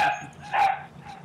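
A dog barks a couple of times, loud and close, with short sharp yips and a whimpering edge, heard alone in a brief burst without speech.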